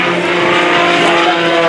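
MX aerobatic airplane engine at an airshow, a loud steady buzzing drone with a slight swell, continuous and close, no talk.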